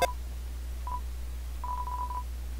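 Short electronic phone-dialing tones from the Undertale video game, a brief beep followed by a longer run of quick tones, clear and alone over a low hum.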